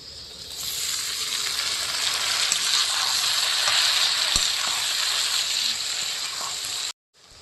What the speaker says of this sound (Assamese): দি ল'ম সৰু সৰুকৈ কাটি লৈছোঁ বিলাহী